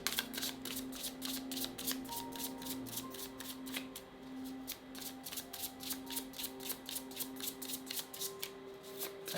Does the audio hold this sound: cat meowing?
no